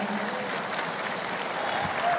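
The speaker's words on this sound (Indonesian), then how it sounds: "Tepuk tangan untuk Pak Anies." An audience claps for Anies Baswedan at a municipal leaders' forum, a brief, dense and steady round of applause filling the hall at even loudness.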